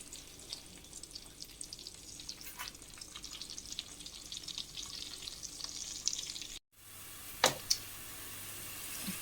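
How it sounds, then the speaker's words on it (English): Chopped onions browning in a frying pan while shito, Ghanaian black pepper sauce, is made, with a soft continuous frying hiss. A brief gap is followed by a louder burst of sizzle near the end. "I will let the onions brown."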